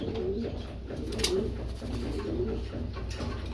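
Racing pigeons, tagged birds kept for sale, coo in a steady, continuous low murmur close by, several voices overlapping with no talk.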